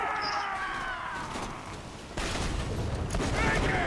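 A fire weapon blasting in the video game Borderlands 2, a steady stream of gunfire with crackling bursts that grows louder and harsher in the second half, amid busy game noise.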